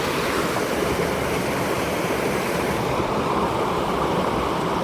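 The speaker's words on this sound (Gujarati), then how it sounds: "જો અહીંયા નીકળે બધું પાણી જોઈ શકો છો" Floodwater from a village after fifty hours of nonstop rain rushes past in a loud, steady, broadband roar with no breaks and no voices.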